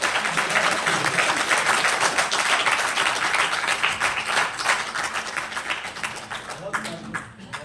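Audience at a Hindi poetry gathering and music evening claps in a dense, sustained burst that gradually thins and fades toward the end, with a voice speaking faintly over it.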